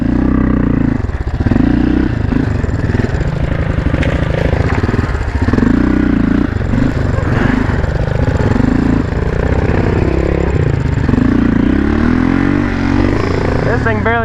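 A cheap four-wheeler ATV engine labors and revs hard while climbing a hill, producing a loud, continuous rumbling drone with rising and falling pitch and some clatter, with a person shouting over it.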